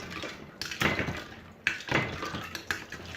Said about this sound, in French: Voilà, on touille bien.